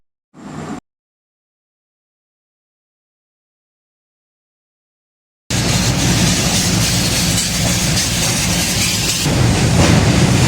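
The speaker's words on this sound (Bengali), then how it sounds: "এখন আমাদের ট্রেনটি যমুনা নদীর উপর দিয়ে যাচ্ছে" Train rolling across the Yamuna river bridge near Agra, a loud continuous rumble and rattle of wheels and carriages after a brief burst and long silence, steady and close.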